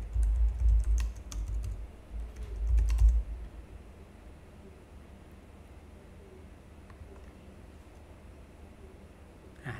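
A computer keyboard clatters with bursts of quick keystrokes over the first few seconds, close and fairly loud, then fades to quiet room hiss with only an occasional faint tap.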